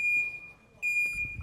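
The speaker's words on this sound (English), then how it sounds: "door ajar alarms have been installed on every set of doors on all school campuses" A door ajar alarm on a school campus door emits a high, piercing electronic beep in two sustained bursts separated by a short gap, loud and close over faint background noise.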